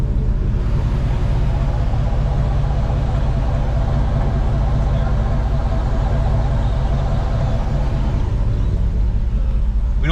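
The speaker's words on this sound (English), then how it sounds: "As you can see, the truck's not too loud in the drive-thru." A turbocharged LS-swapped Ford Ranger truck idles at a drive-thru, its engine and exhaust producing a steady, close low rumble throughout with no break.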